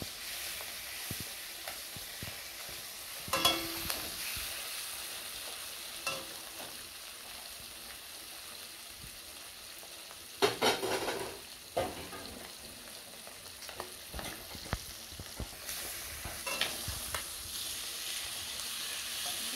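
Chicken pieces fry with ground spices in a pan, a soft, steady sizzle broken by occasional louder stirring scrapes and utensil clatter, with no speech.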